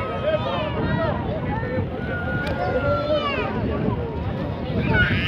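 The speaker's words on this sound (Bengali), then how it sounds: "আর খুব হাওয়া দিচ্ছে এখানে" Strong wind at high altitude in Nathang Valley, East Sikkim, rumbles and buffets steadily across the microphone while a person talks over it throughout.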